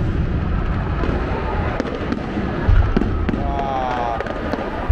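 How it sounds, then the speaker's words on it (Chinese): Fireworks set off from a Ferris wheel at a countdown celebration crackle and pop at a moderate distance, with scattered sharp bursts and booms over a dense crowd roar and chatter. "在现场已经在放烟火了"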